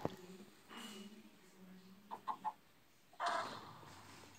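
A few short, bird-like clucks from a game chicken pop up among other game noises and a brief burst of effects, with faint voice-like sounds in the background.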